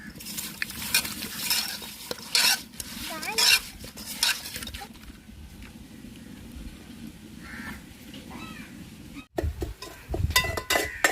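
Metal spoon scraping and stirring through a pan as curry leaves and salt are mixed into a crab gravy, with intermittent clatter and light sizzle, close up and irregular, with a brief pause midway.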